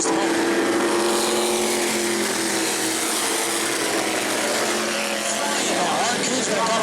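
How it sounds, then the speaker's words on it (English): Race cars thunder around the New Smyrna short track in a heat race, a dense, steady roar of several engines held at high revs, with a public-address announcer talking over the noise. "And now the race is on off turn number 2"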